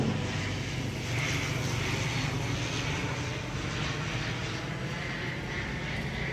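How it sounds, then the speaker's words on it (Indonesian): An airplane flying overhead during a funeral ceremony in Pa'tengko, a loud continuous engine roar that fills the scene, steady throughout with no clear talk. "Ada pesawat"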